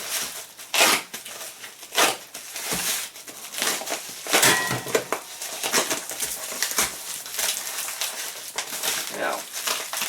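A knife slicing and tearing open a cardboard box in a garage, a run of scraping, crinkling bursts and rips at close range, with someone speaking intermittently over them.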